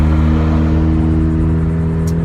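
A 2015 Subaru WRX with a straight-piped exhaust rumbles loudly and steadily up close, a deep droning engine note with a brief sharper pop near the end.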